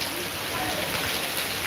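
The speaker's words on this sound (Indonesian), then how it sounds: "ini hujannya dari tadi, hujannya awet guys." Steady, long-lasting rain falling in Mantang, Lombok, an even dense hiss of drops on surfaces filling the air, with faint murmuring voices in the background.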